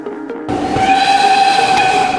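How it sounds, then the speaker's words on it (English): After a brief rumble, a steam train whistle on the South Devon Railway bursts in, shrill and hissing, sounding loud and steady for the rest of the clip. "we spend time riding on steam trains"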